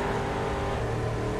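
Car engine revving steadily in the racing game The Crew 2, a loud continuous motor drone with rising and falling pitch, heard alone without talk.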